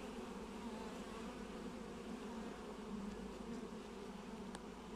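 Honeybees swarm over a frame of capped brood and eggs during a spring hive inspection, a dense, continuous buzzing hum that stays steady and close throughout, with no talk.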